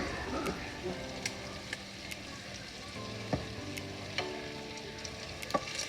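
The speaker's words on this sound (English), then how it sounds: "I'll just continue to keep it on a low heat and just stir fry it" Pre-cooked shrimp stir-fried with black pepper over low heat, a soft continuous sizzle with occasional light clicks of a utensil against the pan, fairly quiet and close.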